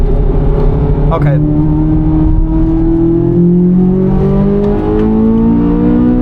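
A 2024 Corvette Z06 with 670 hp accelerating, heard from inside, its engine droning loud and steady as the pitch climbs through the gears, with a brief voice partway through.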